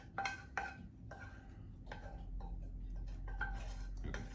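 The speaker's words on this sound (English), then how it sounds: "we're going right into the bowl with our sofrito" A utensil scrapes and clinks against a bowl as cooked sofrito for Italian meatballs is scooped in, with repeated short knocks and scrapes over a low background hum.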